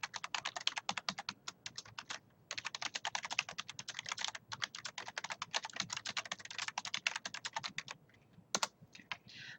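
Rapid typing on a computer keyboard, quiet and close, with bursts of fast key clicks broken by short pauses and a few heavier key strikes.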